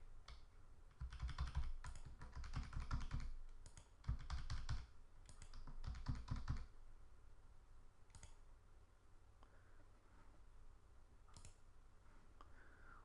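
Rapid, close keystrokes clatter on a computer keyboard while values are entered into a software settings form, dense clicking for several seconds, then thinning to a few isolated taps in a quiet room.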